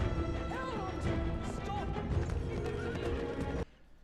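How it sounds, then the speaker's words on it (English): A horse whinnies loudly with rising and falling cries over clip-clop hooves and a rough clatter, close and busy, cutting off abruptly near the end. "Look at that horse."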